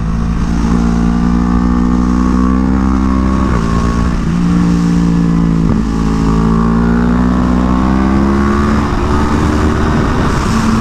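A 2015 Yamaha YZF-R1 superbike on a race track, its engine loud and close, droning and rising and falling through revs, with brief exhaust pops as the throttle closes, continuous throughout with no talking.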